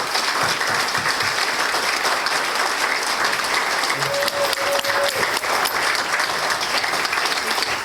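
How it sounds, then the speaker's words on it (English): A high school community service gathering breaks into sustained applause from a crowd, steady dense clapping filling the room for several seconds without letup. "give this crowd a great hand of applause"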